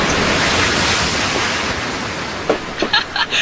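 Rushing water splash from a 60-foot water flume ride, a loud broadband wash that tapers slightly before a few short choppy bursts near the end, with no talk.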